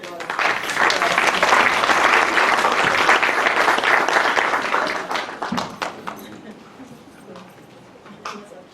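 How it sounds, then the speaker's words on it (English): An audience at an academic seminar breaks into dense, loud applause that holds steady, then thins into scattered claps and fades toward the end, with a voice faintly underneath. "So please, let's give a round of applause."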